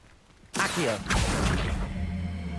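In Hogwarts Legacy, the Accio summoning spell sets off a sudden loud magical whoosh followed by a rushing swell and a lingering low hum, with no talking.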